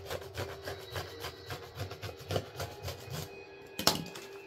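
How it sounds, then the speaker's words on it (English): A serrated cutting tool is drawn back and forth through a material while making tic-tac-toe game pieces, giving a steady rasping, rubbing rhythm of quick strokes. A sharper knock sounds near the end. "if you don't use a sawing motion, then it may not cut here"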